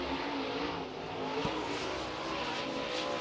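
A late model race car engine revs steadily through a qualifying run, a loud, continuous roar that stays close and full throughout.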